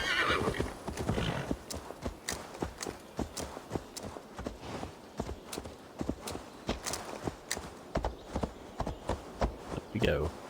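Horse hooves clip-clop in a steady walking rhythm through Assassin's Creed Valhalla gameplay, with whinnies near the start and end, all up close and at moderate volume.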